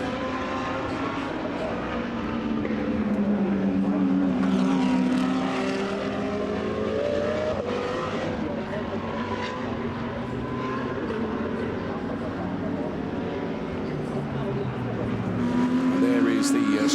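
GT race cars in an ADAC GT Masters race at Oschersleben run in a pack behind the safety car, their engines droning steadily and rising and falling in pitch as they pass.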